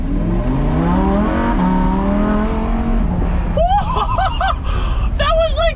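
A Lamborghini engine revs at quarter throttle, loud and close, its pitch climbing in a rising howl before easing off, followed by excited voices speaking over the idle.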